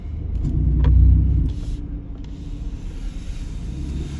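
Car driving along a town road past Morristown Green in New Jersey, a steady low engine and tire rumble from inside the vehicle that swells briefly early on, then evens out.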